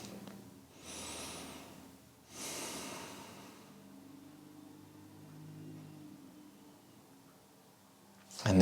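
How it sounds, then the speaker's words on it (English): Slow, soft breathing during a hip mobility stretch in a low lunge, with two long airy breaths close to the mic and a quiet lull after, ending in a brief louder rustle. "taking a few slow breaths."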